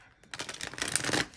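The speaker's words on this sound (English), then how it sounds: "I'm just going to shuffle one more time" Tarot cards being shuffled by hand during a Virgo love reading, a short burst of dense riffling that swells to a steady crisp flutter, close and alone.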